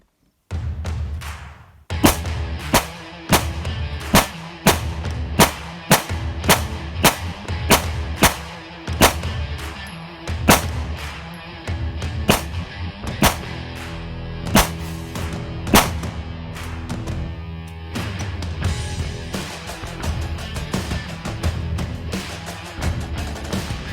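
Repeated gunshots fired into BulletSafe soft body armor, a rapid, loud series of sharp close reports spaced roughly half a second to a second apart, continuing steadily across the stretch with brief gaps.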